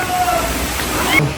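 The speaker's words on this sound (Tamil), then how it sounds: "எல்லாம் சவுண்டு மட்டும் கேட்குது, ஆனால் ஃபால்ஸ் எங்கே கொட்டுதுன்னு தெரில." A waterfall rushes nearby at a bathing spot, a steady broadband roar of falling water that runs evenly through the whole moment.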